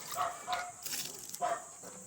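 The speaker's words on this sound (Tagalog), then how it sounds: "ating mga tuta" Puppies yip in short, high, sharp barks, three or four quick bursts over about two seconds, close by with a little background noise and no speech.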